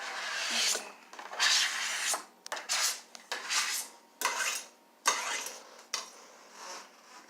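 Steel kitchen knife sharpened during salsa prep, with a series of short scraping strokes, roughly eight rasping passes in an uneven rhythm, close and moderately loud with no talking.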